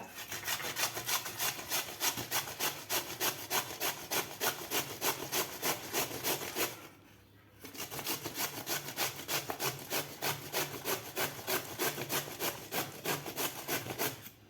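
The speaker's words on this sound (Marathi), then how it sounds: "आता आपल्याला हे खिसून घ्यायचं आहे भोपळा" Bottle gourd rubbed against a hand grater, quick regular rasping strokes in a steady rhythm, close and fairly loud, with a short pause midway before the grating resumes.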